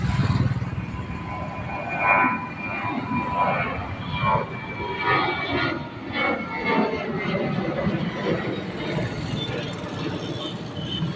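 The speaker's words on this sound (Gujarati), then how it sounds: "તો ઘણી વાર ઊભા રહ્યા મિત્રો અને તમને બતાવું તો વિમાન તો એ પણ આવી ગયું" An airplane flies over near Naroda airport in Ahmedabad, its engine roar swelling and rumbling steadily for several seconds, fairly loud and close, with someone talking over it.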